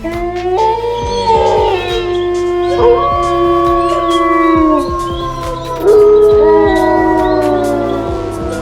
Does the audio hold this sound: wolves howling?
yes